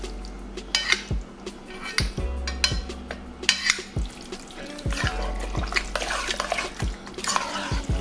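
Oregano and spices being stirred into chili in a pot, with repeated wet scraping and clinking of a spoon against the pot in an uneven rhythm, close and without talking.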